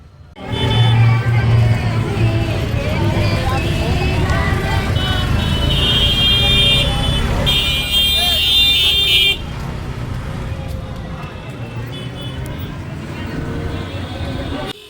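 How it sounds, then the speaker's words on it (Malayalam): Vehicle horns honking in busy Ayodhya street traffic in Uttar Pradesh, with several loud, sustained toots sounding over a constant roar of engines and a background babble of voices. "ഇവിടെയും അത്യാവശ്യം നല്ല ഹോൺ അടിയാണ് കേട്ടോ."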